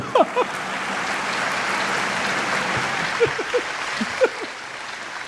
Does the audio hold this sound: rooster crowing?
no